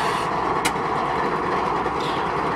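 A BNSF freight train idles on single track waiting for an opposing train, giving a steady low rumble of engines with one brief higher hiss.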